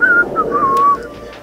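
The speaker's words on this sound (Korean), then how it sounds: "할아버지 휘파람 불어봐" An elderly man whistles a short tune, clear and close, in a few sliding sustained notes with brief gaps, alone without talk.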